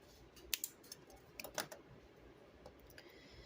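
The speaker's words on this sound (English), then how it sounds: "I just want to trim this middle wire." Wire cutters snip the middle wire of a wire-wrapped earring in a few quiet, sharp clicks close by, set against a faint room hush.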